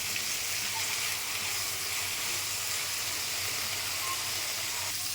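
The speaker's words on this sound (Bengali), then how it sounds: "শিমলাটা একটু হালকা ভেজে নিতে হবে।" Capsicum lightly frying in a pan with bay leaf and a broken green chilli, a steady, even hiss of sizzling oil throughout with no talking.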